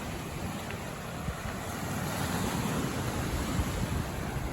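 Waves wash into a rocky bay on Dominica's Atlantic east coast near a small fishing boat, a continuous low rumble of surf and wind, rising slightly toward the end, with no talking.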